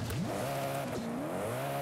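A Bugatti Chiron's W16 engine howls in Forza Horizon 5, its pitch sweeping up and down through quick gear changes in a short, steady burst under racing noise.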